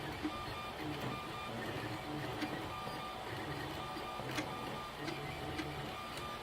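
A 3D printer prints a small skull in red ABS filament, its stepper motors whirring and beeping in short repeating tones at close range while a blower fan tries to spin up, with no voices.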